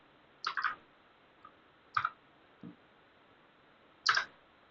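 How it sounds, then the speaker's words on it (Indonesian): A computer keyboard's Enter key is pressed while creating a school database with SQL DDL commands, heard as a few crisp, close clicks in short groups with brief quiet gaps and a couple of softer taps between. "Lalu kita tekan saja enter"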